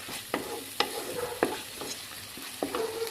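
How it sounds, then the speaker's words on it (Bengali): Spice paste with turmeric, salt and dry spices being stirred and sautéed in hot oil in a pan for a fish curry, soft sizzling under repeated scraping strokes of a spatula, close and fairly quiet. "মশলাটাকে খুব ভালো করে কষিয়ে নেব"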